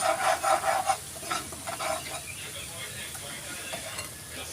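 Onion paste for kaju curry sautés in a pan, a soft hiss under a spoon that scrapes and stirs several times in quick succession near the start, then slows as the quiet sizzle carries on.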